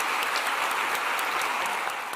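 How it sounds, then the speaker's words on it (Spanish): An audience at a business talk in Medellín, Colombia claps warmly, a continuous dense wash of applause at fairly strong volume, heard alone. "un muy, pero muy fuerte aplauso, por favor"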